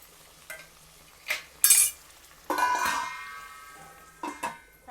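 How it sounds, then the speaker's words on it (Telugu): Onion pieces stirred in a pan for mess-style beetroot fry, with several short scraping bursts of a spoon against the pan and a faint sizzle between them, close and clear with no talking. "ఉల్లిపాయ ముక్కలు ఒకసారి కలుపుదాము"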